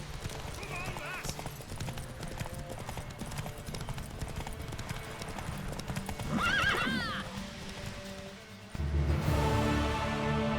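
Hooves clip-clop rapidly in a rhythmic gallop in The Witcher 3 video game, with a horse neighing partway through and voices shouting over it, before a louder scene shift.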